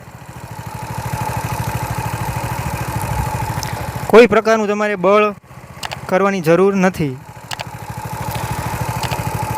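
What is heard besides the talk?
mini tractor (bike saneda) engine running slowly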